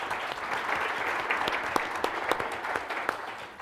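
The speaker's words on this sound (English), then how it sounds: "let's give them a round of applause" Audience applause for a panel at a domain industry conference, a steady patter of many hands clapping at moderate distance with no voices over it.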